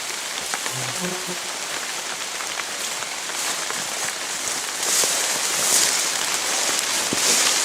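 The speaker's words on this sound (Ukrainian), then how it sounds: "у неї тут дощ незалежно від прогнозів" Steady rain falls over a river floodplain, a dense, continuous patter of drops on the ground and vegetation that grows slightly heavier partway through, heard close and with no talking.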